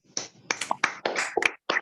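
Scattered claps from online meeting participants with unmuted microphones, a sparse, uneven burst of separate hand claps and snaps at close range, lasting under two seconds.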